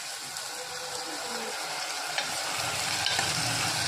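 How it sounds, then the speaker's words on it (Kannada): Pumpkin palya frying in a little oil, a steady close sizzle and crackle that holds throughout, with faint scraping from stirring near the end. "ಸ್ವಲ್ಪ ಎಣ್ಣೆಲ್ಲೇ ಫ್ರೈ ಮಾಡ್ಕೊಳ್ಳಿ."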